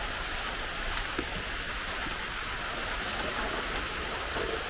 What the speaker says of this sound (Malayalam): ചാറ്റൽ മഴ.